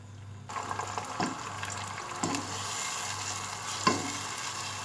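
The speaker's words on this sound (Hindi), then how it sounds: "अब हम इस कीमे को इसमें भूनेंगे।" Quiet sizzling of minced meat frying with onion, garlic-ginger paste and cumin in a pan, with occasional stirring scrapes, a low steady hiss underneath and a few soft clinks.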